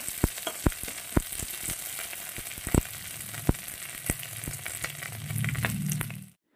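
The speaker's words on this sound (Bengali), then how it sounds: "কড়াই গরম হয়ে যাওয়ার পরে আমি একটু তেল দিয়ে পাতাটাকে আমি ভেজে নেব, সুন্দর করে কড়া করে ভেজে নেব।" Neem leaves fry in hot oil in a wok, making a continuous crackling sizzle with frequent sharp pops and spits. A low rumble swells near the end before the sound cuts off. No one speaks.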